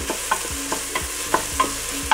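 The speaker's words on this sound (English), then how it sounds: "We are going to saute the onion for, I'd say, 10 minutes" Onion sautés in olive oil in a pot, a utensil scraping through it in a steady rhythm of four or five strokes over a continuous gentle sizzle, close and moderately loud.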